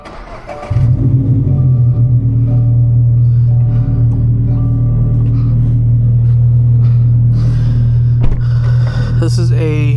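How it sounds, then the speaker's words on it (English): A slammed Subaru BRZ engine starts after a brief pause and settles into a loud, steady low rumble on rough California roads, with a short surge near the end. "very loud car sometimes."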